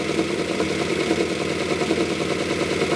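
The engine of a 1971 Plymouth Roadrunner, left sitting for 35 years, idles steadily and loudly with a rough, ticking exhaust leak running alongside the continuous engine drone.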